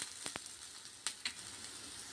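Yam slices shallow-fried in a little oil, flipped to cook on both sides, give a quiet steady sizzle with a few sharp crackles and pops near the start and middle.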